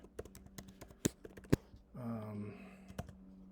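Quiet typing on a computer keyboard, a loose run of close, sharp key clicks with a few harder taps and a short, low voiced murmur partway through.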